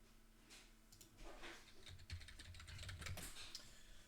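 Computer keyboard typing during a car mechanic simulator game session, a rapid run of light clicky keystrokes with no one talking, fairly quiet.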